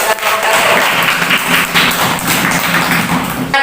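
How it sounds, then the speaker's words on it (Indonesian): A classroom of students claps together in a dense, even burst of applause lasting a few seconds, loud and close. "Tepuk tangan untuk Sita"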